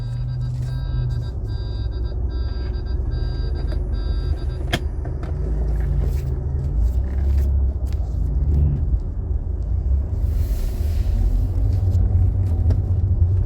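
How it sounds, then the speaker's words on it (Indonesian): A car drives in slowly to park beside a house across the street, its engine giving a steady close rumble throughout, with faint high tones and a brief hiss near the end. "Ini kita mau parkir ya."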